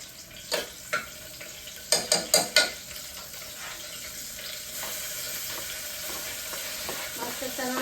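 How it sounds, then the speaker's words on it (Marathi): Masala dropped into hot oil for a chicken khichdi, a sharp burst of sizzling followed by several quick clanks of a spoon against the pan, then a steady fry hiss that builds gradually. "तेल गरम झालं तर आता मसाला टाकते"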